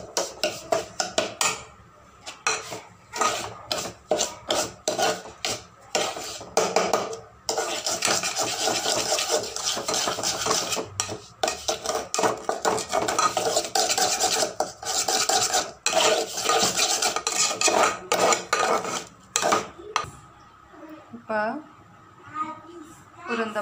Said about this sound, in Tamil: இப்படி கிண்டி விட்டுட்டே இருந்தீங்கன்னா கரெக்டாக வந்துடும்.